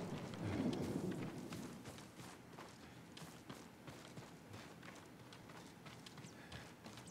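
Horse hooves clip-clopping in the video game Ghost of Tsushima, a steady run of close hoof strikes with rustling ground noise, loudest early then evening out, no talk over it.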